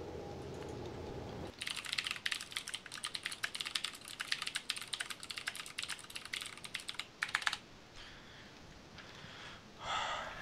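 A mechanical computer keyboard clatters loudly in a fast, dense burst of keystrokes, pausing briefly then resuming, with a breathy snort at the start and end.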